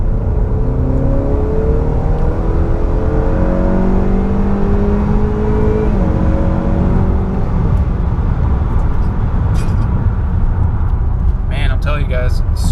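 A Honda Accord 2.0T with a Stage 3 tune accelerating from a gentle roll-on, heard from inside the cabin as a loud, steady engine drone rising in pitch through the gears, with a brief shift dip midway.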